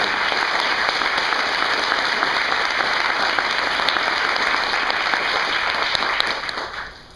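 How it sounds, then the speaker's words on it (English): An audience at an apartment dedication ceremony claps in a dense, steady round of applause that holds loud and even for several seconds, then trails off at the end. "I think that you guys need to give him a round of applause for all the hard work and dedication"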